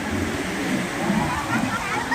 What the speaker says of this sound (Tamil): கடல் அலை